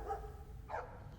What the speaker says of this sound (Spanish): Los perros están ladrando